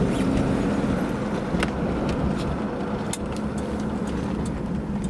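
A 1976 Cadillac Seville with a 350 engine is driven on the road, a steady engine and road roar filling the cabin with faint clicks and rattles, no talking heard.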